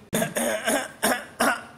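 Five harsh coughs in quick succession, close and loud, with brief gaps between them and no talking.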